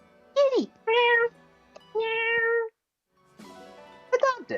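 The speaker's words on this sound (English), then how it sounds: "Kitty! Meow!" Cat meows from the Fire Emblem Engage video game, three clear drawn-out mewing calls with gaps, followed by a noisy passage and a final short meow.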